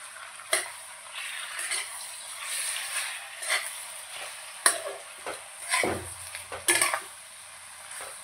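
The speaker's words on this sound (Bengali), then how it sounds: "ততক্ষণ কষাবো যতক্ষণ না মশলা থেকে তেল বেরিয়ে আসছে।" Spices fry in a pot for mutton curry with a soft sizzle, broken by sharp metallic clinks and scrapes of a spoon stirring at irregular intervals.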